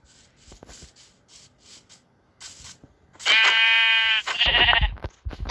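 Sheep in a survival video game give two long, loud, wavering bleats near the end, following a stretch of quiet, evenly spaced clicks.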